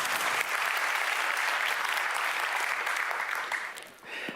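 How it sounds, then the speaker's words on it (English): Audience applause at a DevOpsDays Amsterdam 2023 conference session: dense, steady clapping from a large crowd, sustained at even loudness for about four seconds before thinning out at the end. "So big round of applause for Ivan"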